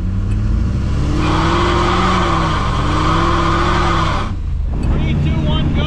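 A GMC Syclone truck's turbocharged engine running close by, a loud steady drone with pitch rising and falling as it revs, cutting off abruptly near the end; voices talk over it.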